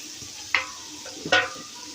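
Ground beef cooking in a pan for old-fashioned spaghetti, with a steady low sizzle and two sharp scraping stirs of the meat.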